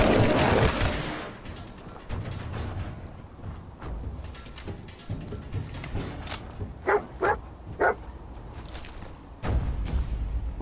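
A dog barks in the Fallout 4 video game, several short yips and barks scattered among game sound effects and a noisy burst at the start, moderately loud with no talk over them.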